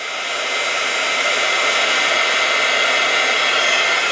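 A heat tool blows with a loud, constant whooshing hum, close and unbroken, while warming a Jamberry nail wrap.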